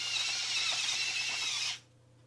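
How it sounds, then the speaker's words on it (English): Finamill electric grinder grinding salt over a bowl of vegetables, a steady dense grinding whir heard alone for under two seconds before it stops abruptly. "Use your Finamill to grind salt on the mixture."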